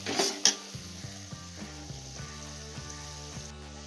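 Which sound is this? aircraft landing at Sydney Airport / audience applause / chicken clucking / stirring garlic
stirring garlic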